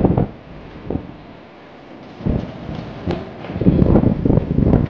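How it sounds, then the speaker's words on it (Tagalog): Strong wind buffeting a microphone outdoors on a trip in Roxas City, Capiz: heavy low rumbling gusts that surge and drop in uneven bursts, loud and close, with no talk. "Lakas ng hangin."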